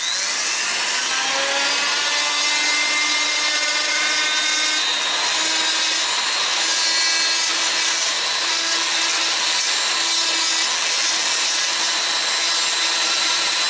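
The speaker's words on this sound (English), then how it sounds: "take our Fordham, again we got the Typhoon bit, and I'm just going to cut the bottom line out here" A rotary power carver fitted with a Typhoon burr bit grinds into a wooden walking stick, giving a continuous high whine over a rough rasping cut, loud and close, with no talk.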